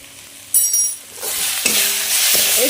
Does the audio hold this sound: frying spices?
yes